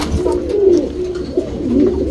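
Pigeons coo in a loft housing fancy breeds such as Dumali and HMT Regdar birds, a steady near chorus of low rolling coos that swell and fade continuously with no talk.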